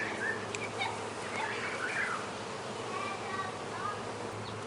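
Honey bees hum and buzz around an open hive with frames of brood and nectar exposed, a dense steady drone with a few bees zipping close, under faint talk and distant birdsong.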